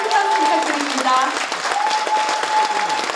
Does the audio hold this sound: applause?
yes